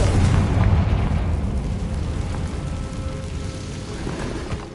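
A conjured Confringo blast erupts as a deep, rumbling boom that rolls out and slowly fades over several seconds, loud and low with a crackling tail.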